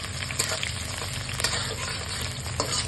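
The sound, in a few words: chopped onions frying in hot oil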